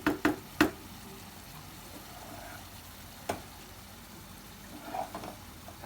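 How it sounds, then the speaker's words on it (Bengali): Noodles and meat fry quietly in a pan with a low steady sizzle, broken by a few sharp knocks and scrapes of a utensil against the pan. "ছেলের ছেলের জন্য একটু নুডলস রান্না করতেছি।"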